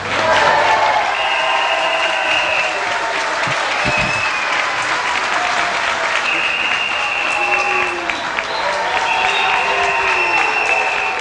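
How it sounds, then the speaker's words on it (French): A packed crowd gives a sustained, loud ovation to Camille Sudre at a 1992 plenary assembly of the regional council after his election as regional president. Dense clapping runs the full length with voices mixed in. "Camille Sud, ovationné, bien sûr, par la foule venue en grand nombre ce matin à cette assemblée plénière du Conseil régional"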